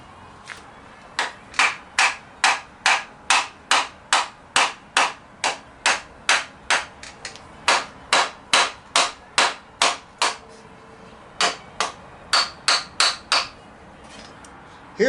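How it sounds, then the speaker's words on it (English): Steady hammer blows ring out one after another, about two per second, sharp and close, with brief pauses between short runs. "Let's get a hammer."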